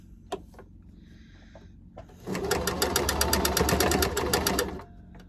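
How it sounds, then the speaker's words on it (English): A sewing machine stitches the side seam of a homemade fabric face mask, running steadily and close for about two and a half seconds after a few quiet handling clicks. "And now we'll sew the other side."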